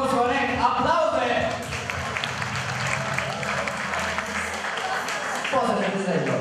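Audience applause at a high school freshman ball, dense clapping and crowd noise filling the room steadily, with voices talking over it.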